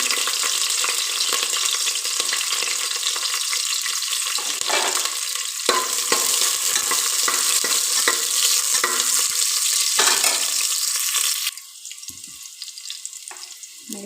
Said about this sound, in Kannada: ಈರುಳ್ಳಿ ಹಾಕೊಂತಿದ್ದೆ ಈರುಳ್ಳಿ ಹಂಗೆ ಒಳ್ಳೆ ಫ್ರೈ ಆಯಿತು